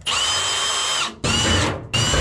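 A power drill whirring loudly and steadily as it backs screws out of a washing machine's rear panel, running in three bursts with brief stops between them.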